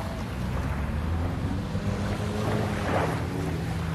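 Ocean waves wash steadily onto the shore of the Bahama Islands, a continuous close surf roar with wind buffeting the microphone and no voices.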